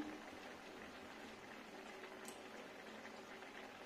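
Okra curry with boiled potatoes simmers gently in a pan, giving a faint, steady bubbling and hiss that stays even throughout with no talk.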